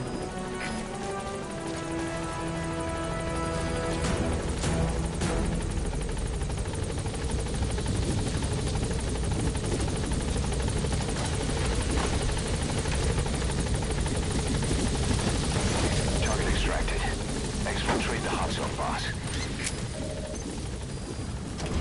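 The helicopter Pequod flies in a video game, a loud, steady rotor chop and engine drone held throughout, with brief clattering transients layered over the continuous beat.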